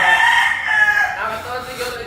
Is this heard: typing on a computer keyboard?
no